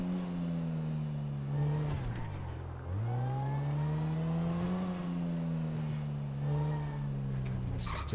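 Stolen car driven in a GTA roleplay game, its engine droning steadily with rising and falling pitch as it accelerates and shifts, loud and close throughout with a brief dip midway.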